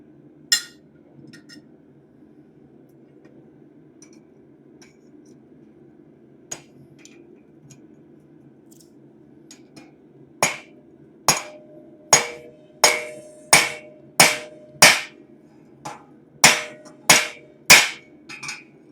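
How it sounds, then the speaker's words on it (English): Metal rivets on press-made blacksmith bolt tongs are hammered together: after a quiet stretch with faint taps, about a dozen sharp, ringing hammer blows land in a steady, fairly regular rhythm, close and loud. "I should, in theory, be able to rivet those two together pretty nicely."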